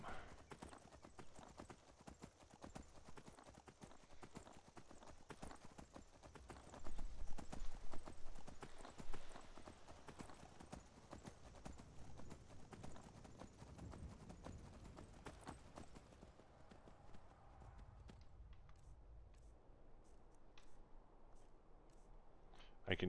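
A horse ridden in Skyrim clip-clops in a steady, even rhythm of hoofbeats for about sixteen seconds. The hoofbeats then stop, leaving quieter ambient game sound.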